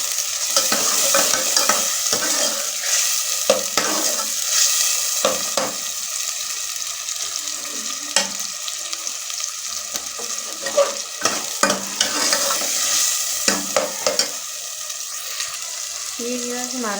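Tomatoes fry with onions in a pan, giving a bright, continuous sizzle with frequent scraping stirs and clinks of a spoon, near and fairly loud, with no one speaking.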